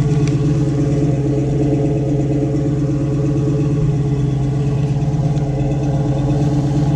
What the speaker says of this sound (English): I love that exhaust sound.